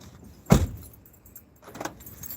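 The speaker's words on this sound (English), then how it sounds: "So we've got to lock the van, get the keys," Keys jangle and clack once sharply beside a van being locked outdoors, followed by a softer jingle a moment later, against faint background noise.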